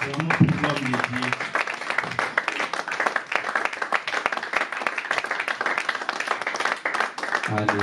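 A church congregation claps in a dense, steady burst of applause with cheering through most of the moment, while a voice speaks briefly at the start and end.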